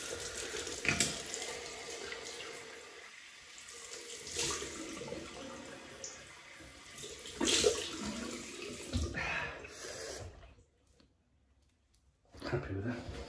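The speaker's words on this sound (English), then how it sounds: "Cold water rinse then." Cold tap water running into a sink for a rinse during a wet shave, a steady broadband splash that rises and falls, with occasional clicks, then cuts off briefly before resuming.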